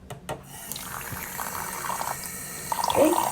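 Tap water running into a sink to wet makeup brushes for cleaning, a steady close trickle that swells toward the end after a couple of brief knocks at the start.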